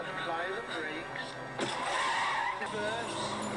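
A car braking and skidding in The Naked Gun (1988), a tire squeal rising out of background film sound, with someone talking over it.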